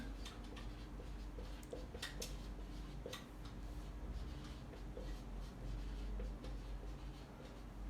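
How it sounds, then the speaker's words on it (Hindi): Chalk or a marker writes on a classroom board, giving faint, scattered taps and short scratchy strokes over a steady low hum, with no talking. "कैसे, जैसे देखो मैं लिख दूं"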